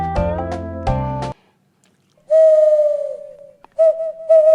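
Owl hoot sound effect from the Quiver Masks app, heard as a few loud, clear hoots after a separate musical tone, with a brief gap between them.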